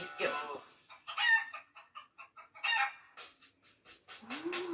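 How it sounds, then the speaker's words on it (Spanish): A hen and rooster give a rapid series of clucks and short crowing bursts, loud and close, some clipped calls in quick rhythm with brief gaps, over a cheerful backdrop. "Dime si tú sabes cómo hace la gallina."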